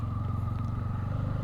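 A Bajaj Pulsar N250 motorcycle engine rumbles steadily at close range during a rain ride, a continuous low throbbing drone with no pauses.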